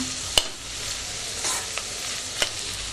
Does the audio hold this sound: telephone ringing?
no